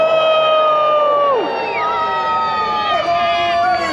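Festival crowd at a Dickens holiday celebration in Fayetteville, North Carolina, cheers and whoops for a costumed Ebenezer Scrooge, with voices rising and sliding over one another close by at a steady, lively level.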